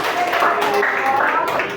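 A school class applauds in a classroom, a short burst of many hands clapping together, close and fairly loud, under a dense patter with a voice mixed in.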